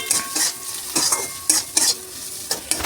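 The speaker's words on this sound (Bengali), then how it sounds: "এবার একটু নাড়াচাড়া করে নিই।" Winter vegetables fry in a pan while being stirred, a steady sizzle punctuated by sharp rhythmic scrapes of a utensil against the metal, close and fairly loud with no speech.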